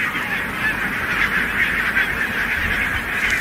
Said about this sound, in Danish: man kan ikke fatte, at de kan råbe så højt